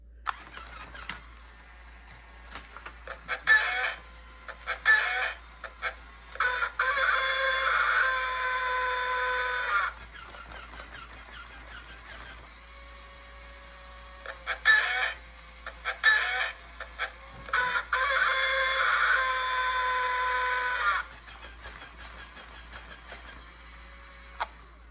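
A rooster rigged to a switch-activated painting setup clucks and crows in repeated bursts, loud and close, with brief pauses of scratching and shuffling movement between them.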